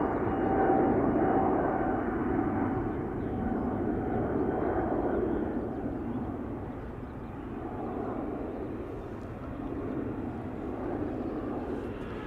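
A Singapore Airlines Airbus A350-900 airliner at Schiphol Airport gives off a broad, sustained jet roar heard from a distance, swelling and easing slightly over several seconds, with no speech.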